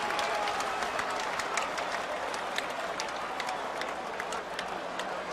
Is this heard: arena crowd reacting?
yes